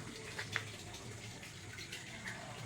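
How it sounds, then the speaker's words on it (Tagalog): Steady tap water runs while the water in a crayfish tank is being changed, a continuous close splashing wash with a couple of brief brighter splashes. "Magpapalit tayo ng tubig ngayon."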